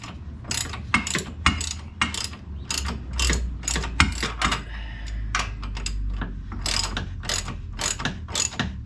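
A ratchet tightens a bolt on Porsche 911 rear suspension trailing arms, with a rapid series of sharp mechanical clicks in repeated strokes and short pauses, close and clear, with no speech.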